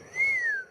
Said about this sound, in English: I need a sexy whistle on the soundboard